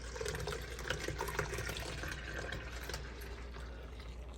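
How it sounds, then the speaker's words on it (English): Two liters of whole milk pour slowly into an Instant Pot, a soft continuous liquid splash and trickle, close and quiet, with no talking. "now I'm going to add 2 liters of milk to the Instant Pot"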